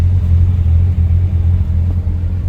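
A supercharged CR1 car at a cone slalom event gives off a steady, loud, low engine rumble that holds constant throughout, with no voices.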